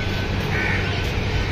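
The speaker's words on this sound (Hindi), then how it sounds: "ये बतखे हैं" Ducks quack nearby in a bird aviary against a noisy background, with a short nasal call rising in the middle of the brief stretch.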